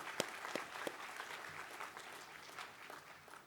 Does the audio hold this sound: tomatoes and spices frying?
no